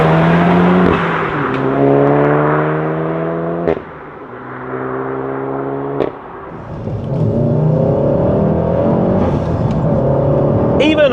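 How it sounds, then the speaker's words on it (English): A Mk7 VW Golf GTI Clubsport S accelerates hard through the gears from first, the engine note rising steeply in each gear, with two brief dips at the upshifts before it climbs again, loud and close from inside the car. "really hard acceleration like that up through the gears from first"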